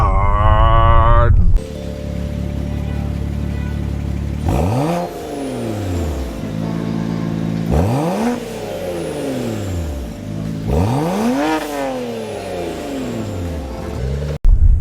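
A BMW 535i six-cylinder engine revs up sharply three times in a row, each rev climbing and then falling away, loud and close, after a brief burst of other noise at the start.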